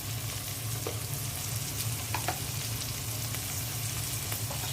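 Onion frying in a pan with ginger-garlic paste and spices, a steady close sizzle throughout with a few soft clinks of a stirring spoon on the pan.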